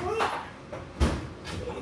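Drawer being opened and shut in a workshop during a Kubota M6040 tractor hub seal repair, a few quick wooden-sounding knocks and slides with one sharper thump near the middle, close by.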